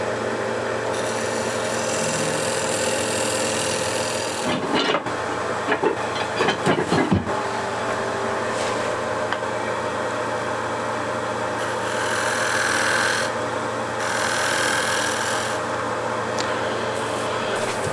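A wood lathe cuts and scrapes the outside of a turned wooden bowl, a steady rasping, rubbing tool noise over a motor hum, broken by a burst of harsher scraping and knocks midway.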